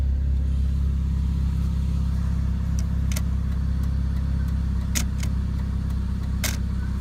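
A 2000 Chevy Cavalier engine idling steadily with a low, constant rumble close by, broken by a few faint clicks and rattles and no voices.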